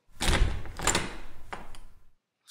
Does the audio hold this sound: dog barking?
no